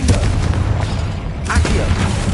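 Deep, booming blasts from a Confringo spell in the video game Hogwarts Legacy, a heavy rumbling explosion that swells again midway through, loud and close with low-end weight.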